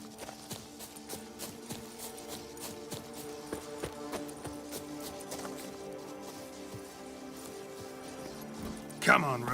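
Roach the horse's hooves clip-clop steadily along in The Witcher 3: Blood and Wine, a regular trotting beat over continuous musical and ambient background, with a louder burst near the end.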